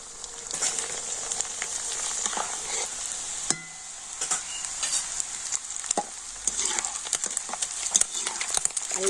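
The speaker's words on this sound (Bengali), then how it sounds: "সাবুদানাগুলো একটু সাবধানে এইভাবে ভেজে নিতে হবে" Sago pearls (sabudana) frying in oil, a bright continuous sizzle broken by clinks and scrapes of a spatula or strainer against the pan, with a brief lull partway through.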